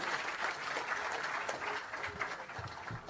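Loud applause from a large crowd at a BJP political gathering in Mumbai: dense, steady clapping that holds for about three seconds with no voices standing out.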